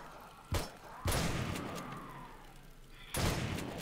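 Three sharp gunshots ring out in the zombie survival game 7 Days to Die, the second followed by a long rumbling tail and distant rattling, the last another loud crack near the end.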